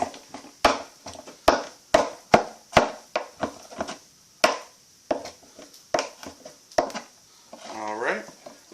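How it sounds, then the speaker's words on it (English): A knife chops ingredients for pasta on a cutting board in a home kitchen, making a brisk run of close, sharp knocks with brief pauses, and a short clatter near the end. "Almost done chopping this stuff."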